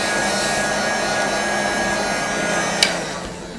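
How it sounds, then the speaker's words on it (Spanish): A hair dryer or heat gun blows a constant, loud rush of hot air over homemade plastic as it heats, with one brief knock near the end. "No dejamos en un punto fijo nunca o el secador o la decapadora."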